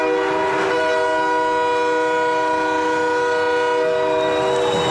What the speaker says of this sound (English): We can't talk over that with those train horn.